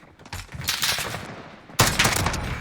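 Single gunshots from an FAL rifle in a first-person shooter video game, a few loud sharp cracks with a strong report near 1.8 seconds, over steady game ambience.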